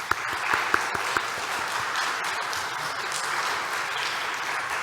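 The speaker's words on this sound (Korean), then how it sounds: "우리 격려의 박수 한번 보내겠습니다." A church congregation claps to welcome students at a chapel service, a few sharp early claps swelling into steady, even applause that carries to the end.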